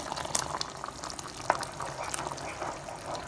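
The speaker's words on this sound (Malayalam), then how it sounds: "നല്ലോണം തിളയ്ക്കുന്നുണ്ട്." Jackfruit pradhaman, a sweet payasam, simmers hard in a pot, giving a steady bubbling boil with small pops and gurgles throughout, close and moderately loud with no talking.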